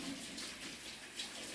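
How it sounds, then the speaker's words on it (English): Running tap water splashes steadily as hands are washed under a faucet in a home kitchen, a continuous close rushing hiss with no talking. "Always remember to wash your hands as well."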